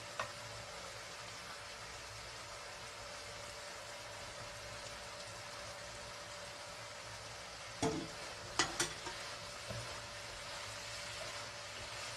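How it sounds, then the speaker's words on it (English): Kimchi, onion and sliced ham fry steadily in a pan, giving a continuous low sizzle with a few louder clatters of stirring near the end; no one speaks. "More than 2 minutes I fried with onion and kimchi."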